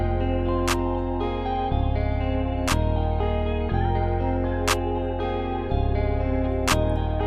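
A snappy clap sample from the Motion Bundle kit in FL Studio hits on a steady beat, four sharp strikes spaced about two seconds apart over a looping trap guitar beat with deep bass.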